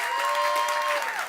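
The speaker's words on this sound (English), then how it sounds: "just give him a round of applause" A panel audience at a Climate Week event on the UN and the non-profit sector claps for a thanked guest, a short burst of steady, fairly loud applause with a sustained tone running underneath.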